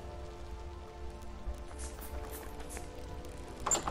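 Rain falls at a base in the survival game Vintage Story, a soft continuous patter of drops on surfaces with low rumbling ambience underneath and a brief louder burst near the end.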